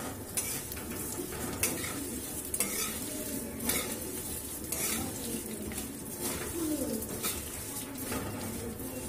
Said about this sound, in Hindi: इसमें हम सेवई डाल देते हैं और इसको खूब चला लेंगे हम।